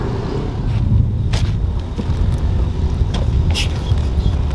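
Engine of a homemade quadbike running close by, a steady low rumble with occasional sharper knocks and rattles.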